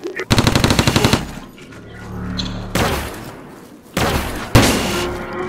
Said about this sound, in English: Oh, like it's a rifle, okay.